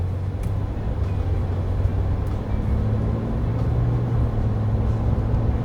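A Chevy 1500 pickup with the 3.0L Duramax LZ0 diesel accelerates smoothly, its low steady engine drone and road rumble heard from inside the cab with no talk over it.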